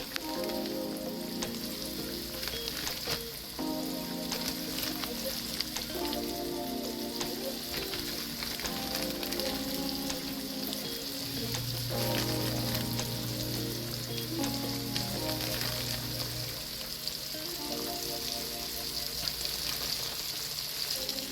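Salmon pieces coated in seasoned batter frying in a pot of hot oil, giving a steady, dense sizzle and crackle that runs continuously at close range with no talk over it.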